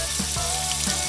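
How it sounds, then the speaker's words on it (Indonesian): Shrimp frying in hot oil, a steady close sizzle and bubbling that holds at an even level throughout with no talk. "Masukkan udang ke dalam minyak panas."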